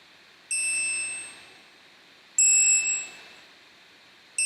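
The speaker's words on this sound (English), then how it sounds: "Next, I went with the broken bells." Broken bells sample in a music production, struck once per bar: two bright, ringing bell tones with long decaying harmonics, clear and alone.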